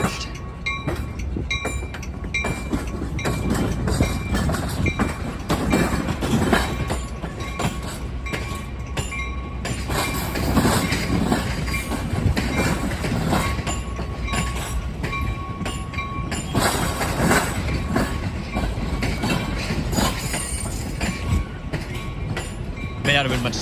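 A BNSF freight train rolls past on the railroad at Roosevelt Road in Chicago, with loud continuous rumble, rhythmic clickety-clack of wheels over rail joints and occasional metallic clinks and squeals.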